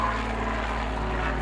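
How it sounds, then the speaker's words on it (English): Helicopter flying past near a crab fishing operation, a steady, droning engine and rotor hum with no voices. "I'm going to wait till this helicopter goes past."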